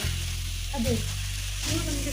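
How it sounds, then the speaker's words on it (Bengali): Carrot pieces fry in a pan, giving a steady, loud sizzle close by over a low hum, with a voice briefly audible beneath the frying. "এখন গাজর ভাজা চলছে"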